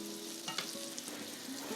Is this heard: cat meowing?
no